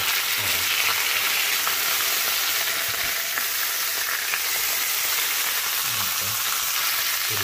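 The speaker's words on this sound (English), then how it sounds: "Put the other pieces in there." Lamb pieces frying in a pan, a steady broadband sizzle throughout with occasional low bumps of handling, no speech over it.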